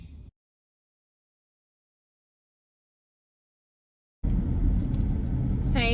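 Low engine rumble heard from inside a car, starting abruptly after a long silence and continuing steadily and fairly loud to the end.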